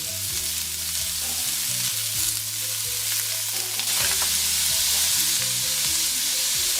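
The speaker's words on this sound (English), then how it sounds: "we're going to go ahead and cook this meat in small batches." Thinly sliced cheesesteak meat sizzles steadily in a pan on high heat, a dense continuous frying hiss with occasional scraping and stirring, close and moderately loud throughout.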